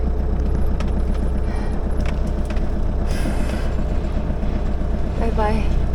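From inside a tiny van on the move, a constant loud road rumble and engine drone continue throughout, with faint rattles and brief voices over the top.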